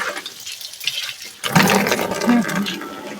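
Hot water is poured and mixed into bathwater, starting as a soft trickle and then turning into a loud, steady gushing splash that runs on until the end.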